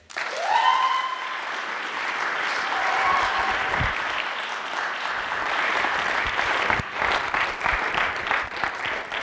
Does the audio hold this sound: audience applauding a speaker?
yes